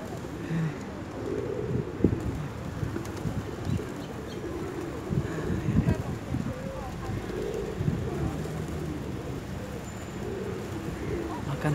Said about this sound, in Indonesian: Ini burung merpatinya.